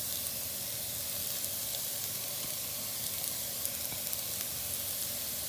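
Cooked chicken dropped into frying masala in a pan for mayonnaise chicken polla, giving a steady close sizzle with a soft hiss that runs the whole time, no voices over it.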